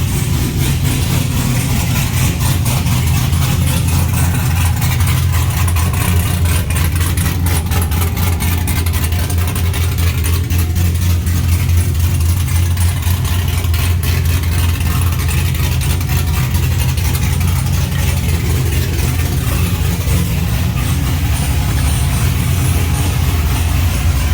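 A car with an LS engine idling with a choppy, lopey rhythm, loud and close throughout with a constant deep rumble and no talk.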